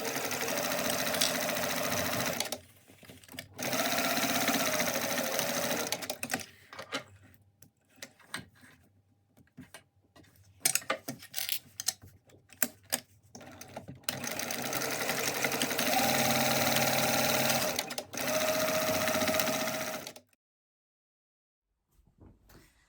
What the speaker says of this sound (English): I'm going to sew both sides just from top to bottom.